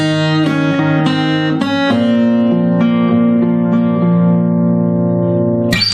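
Fingerstyle acoustic guitar plays two bars of a song from Frozen: a steady run of plucked notes over held bass strings, each note ringing on into the next, close and clear with no talking.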